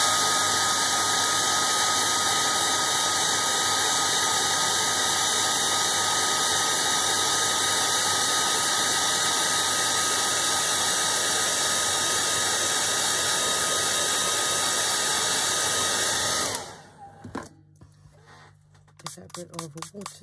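A hair dryer blows steadily and loudly to dry freshly coloured paint on a brick wall, a constant whooshing drone that cuts off near the end, leaving quieter handling noises.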